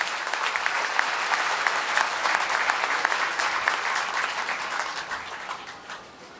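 Audience applause at a Hindi political speech, a dense sustained clatter of many hands clapping that holds steady and begins to thin out near the end, with no talking over it.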